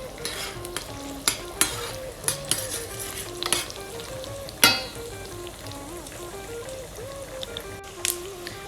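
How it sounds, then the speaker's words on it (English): Coconut bits fry in a pan for moong dal payasam, keeping up a steady sizzle with sharp scrapes and clinks as a spoon stirs them. Faint music plays underneath. "To this, let us add the coconut bits. And fry them until it's done."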